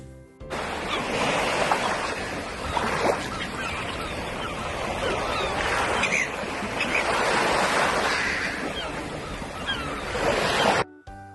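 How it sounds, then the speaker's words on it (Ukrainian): Black Sea surf near Odesa rolls steadily onto the shore, waves swelling and breaking in a continuous wash with some wind noise, no voices. "Так, це Чорне море так шумить."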